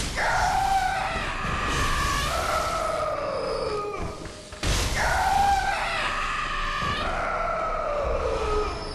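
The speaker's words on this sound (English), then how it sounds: "I like their death scream a lot." Enemy death screams in the video game Bloodborne, two loud wailing, howling cries a few seconds apart, each swooping down in pitch, with no talk over them.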